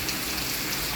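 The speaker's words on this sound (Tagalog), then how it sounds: "Lakas ng ulan" Heavy rain falls in a steady, dense hiss, an unbroken wash of drops close by with no voices.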